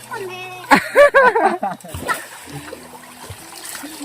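Bathers splash in cold water from an irrigation channel, with sharp bursts of splashing over a trickling background while excited voices call out.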